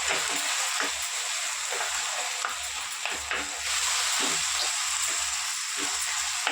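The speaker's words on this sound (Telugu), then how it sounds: "టమాటా కూడా వేసి కలిపేసుకుందాం." Tomatoes fry in a pan of cucumber and dried-fish curry, a steady bright sizzle with soft repeated scraping and thuds as the mixture is stirred.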